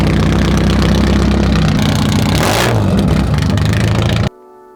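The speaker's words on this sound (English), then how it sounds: "I was waiting to hear how loud this exhaust truly was about to be" A loud exhaust rumbles from a 40-year-old Porsche that had been left abandoned, running steadily with a deep, dense roar and a brief rev swell midway, then cutting off abruptly near the end.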